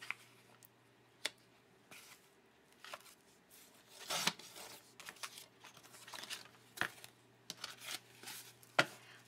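Paper being cut for a craft project, with sharp scissor snips and light rustling in irregular bursts, quiet and close, with no talking.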